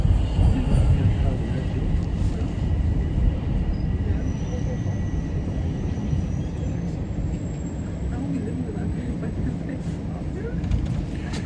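Toronto TTC Line 1 subway train riding between stations, a steady loud rumble and rattle of wheels on track heard from inside the car with no letup.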